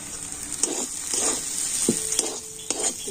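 Potatoes and roasted peanuts are stirred in hot frying oil, with a steady close sizzle and repeated scraping strokes of a utensil against the pan, no talking.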